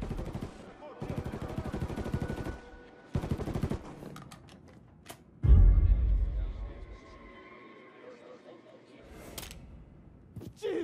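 Machine-gun fire in the video game Mafia III comes in sustained rapid bursts, followed by a heavy boom and quieter ambient action, with voices speaking between the shots.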